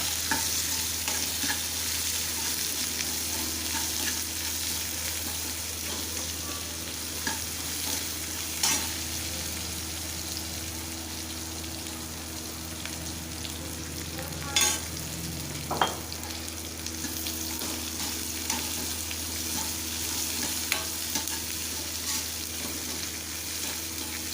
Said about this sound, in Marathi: कांदा घालायचा कांदा चांगला भाजून घ्यायचा